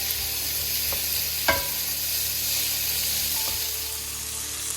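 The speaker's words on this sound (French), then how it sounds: "On va laisser cuire comme ça, à feu très vif, pendant environ 4 minutes." Sichuan-style green beans stir-fry over very high heat, a dense steady sizzling hiss close to the pan with a couple of sharp metallic utensil clinks, no talking.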